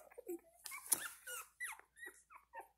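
Newborn one-week-old Airedale terrier puppies whimper and squeal in a close, irregular series of short high-pitched cries, with brief pauses between them.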